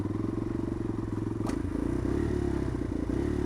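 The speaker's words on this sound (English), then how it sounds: "and then we dip the clutch in. That's the noise we're looking for." A motorcycle rides along under steady throttle, loud and close, its engine droning evenly, while a brief sharp transient marks the clutch pop used to lift into a wheelie.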